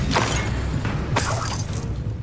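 Hogwarts Legacy's Bombarda blasting spell erupts in two sharp, crackling bursts about a second apart, with clattering debris over a dense game soundscape.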